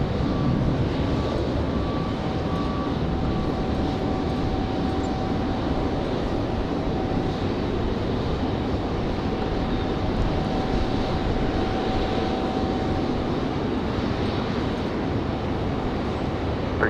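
A Sun Country airliner at Raleigh-Durham airport makes a steady, sustained engine roar with a faint high whine running through it, heard at a distance and unbroken for the whole stretch.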